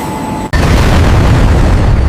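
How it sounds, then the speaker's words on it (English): Rebuilt Black Hawk helicopter engines firing up: a sharp burst after a brief high whine, then a loud, dense, continuous roar as the rotors begin spinning. "The rebuilt engines come alive as the rotors begin to spin"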